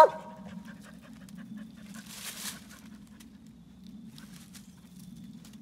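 Tired coon hunting dog panting steadily near a treed raccoon at night, a soft continuous rhythmic panting close by with a brief rustle partway through and no talking.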